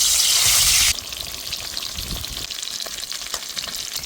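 Fish sizzling as it fries in hot oil, bhola fish being prepared for a kochur mukhi curry; a loud, dense hiss at first, then a steadier, quieter crackle and sputter with a few sharper pops.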